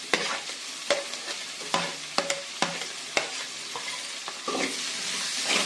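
Three medium onions and four green chilies sautéing in a hot pan, a steady sizzle broken by repeated sharp scrapes and knocks of a spoon stirring, close and fairly loud.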